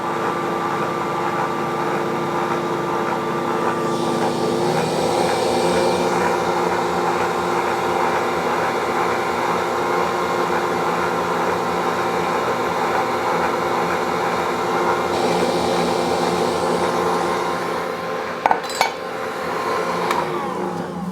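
Electric mixer blending eggs into sugar-free pound cake batter, a steady whirring hum running continuously throughout with slight shifts in pitch and a couple of brief knocks near the end.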